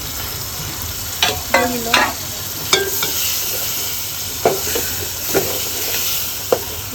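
Fish head frying in a pan with chilli for an ilish-based sour greens and sweet potato dish, stirred with a spatula: steady sizzle under scattered scraping clacks and brief utensil knocks, close by, with a short spoken word.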